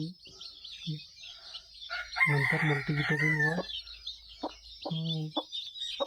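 Newly hatched country chicken chicks peep in high, continuous chirps while a hen clucks in short bursts nearby, with someone talking over them.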